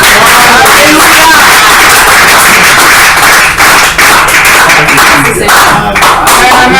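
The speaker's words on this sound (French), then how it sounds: "Est-ce qu'on peut applaudir pour le Seigneur?" Congregation applauding for the Lord during a church service, a dense, loud wash of clapping with sharp individual claps, sustained throughout with voices mixed in.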